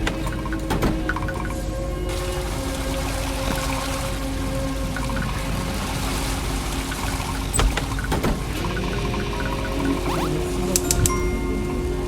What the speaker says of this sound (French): on allume d'abord tous les robinets avec de l'eau chaude